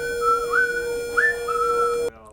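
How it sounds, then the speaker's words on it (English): Someone whistles a short tune up close, a clear steady note with a couple of quick upward slides, ending abruptly after about two seconds. "I'm pretty much whistling all the time"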